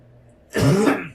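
A single short, harsh cough or throat-clearing rasp, close and loud, lasting about half a second after a quiet start.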